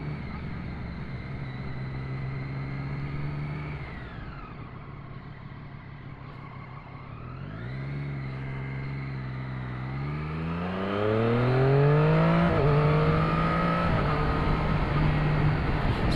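Motorcycle ridden on the Mt Charleston loop, engine revving up and down through gear shifts with pitch dropping and rising, a clutchless upshift into second and a hard pull at the end, close and loud with no talk.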